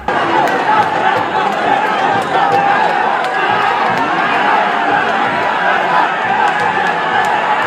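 Crowd of devotees roaring and cheering at a temple festival kalasham procession in Kerala, a dense continuous mass of voices with sharp shouts rising throughout, loud and close.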